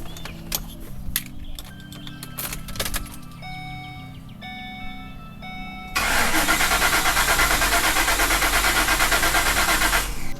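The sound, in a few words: van fuel pump priming when ignition key turned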